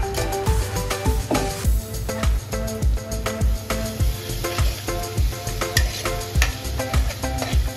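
Spiced masala stirred and mixed in a frying pan, with a spatula scraping and knocking in a steady rhythm over a soft sizzle, close and fairly loud.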